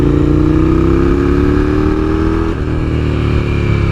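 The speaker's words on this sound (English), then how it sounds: "5th gear, brakes, down into 3rd. No clutch required. We're downshifting." A motorcycle engine drones loudly at speed on a wet road, its pitch easing down before a sudden clutchless downshift to a lower note, with no talking.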